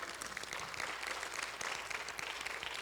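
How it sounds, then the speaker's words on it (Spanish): A church congregation claps together in sustained applause, dense and even throughout, moderately distant and fairly quiet, with no speech over it. "den un aplauso al Señor"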